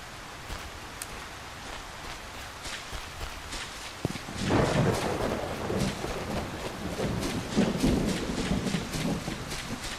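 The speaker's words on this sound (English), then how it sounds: "Oh, we got lightning coming down." Thunder from a lightning storm breaks in as a sudden loud crack and then rolls on as a sustained rumble over steady background rain noise, with a few sharp clicks scattered throughout.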